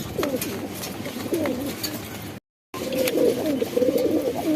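Shahjahanpuri pigeons coo in repeated low rolling phrases close by, with a brief silent break midway and a steady murmur of background chatter and faint chirps.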